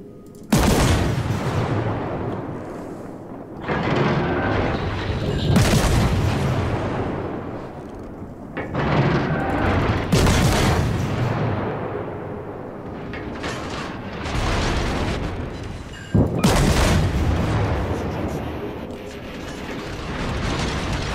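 Secondary guns on a warship in World of Warships fire in a dense, loud barrage of repeated booming volleys, several heavy bursts rolling one after another with mechanical clatter between them, no voices.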